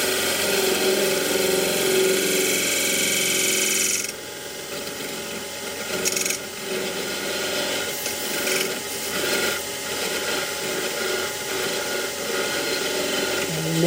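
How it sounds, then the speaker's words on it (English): A skew chisel cuts wood on a lathe turning a multi-axis candlestick holder, producing a continuous rasping, scraping whir that eases slightly partway through and then carries on steadily. "And nibble away the inside of that with the skew."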